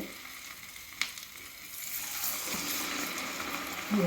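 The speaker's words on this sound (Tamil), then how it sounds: "இப்போ காலிஃப்ளவரை ஃப்ரை பண்ண போகிறோம்" Cauliflower pieces for gobi 65 drop into hot oil and sizzle steadily, a soft hiss that swells and holds as frying settles in, with a small splash or clatter near the start.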